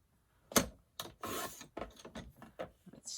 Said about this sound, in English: you'll see that this cutter will cut these small pieces